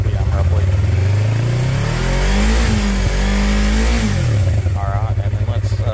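A Yamaha MT-03 motorcycle on its stock exhaust, in neutral, climbs from idle to roughly 6,500 RPM, holds the rev, then drops back to idle, loud and close throughout.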